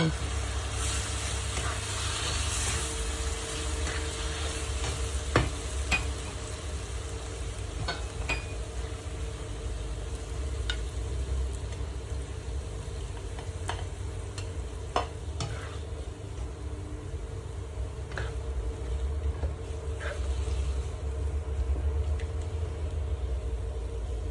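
A spatula scrapes and scoops stir-fried bean sprouts from a pan onto a plate, with close, irregular clinks and scrapes over a steady low hiss of residual sizzling, continuous throughout.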